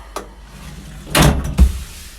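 Drawers sliding and thudding shut in the rear mobile-workshop fit-out of a 2015 Land Rover Defender 130 2.2 TDCi, with a light knock followed by two louder, close rolling slams about half a second apart.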